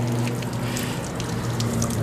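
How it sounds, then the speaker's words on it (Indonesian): Water is poured over a body during ritual washing of the dead, a continuous close splashing gush with a low steady hum beneath, no voices heard. "Coba langsung disiram. Siram semuanya."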